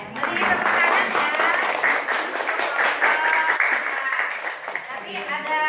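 Classroom applause from students after a group presents on electrolyte and non-electrolyte solutions, brisk dense clapping that stays loud and steady, with faint voices mixed in.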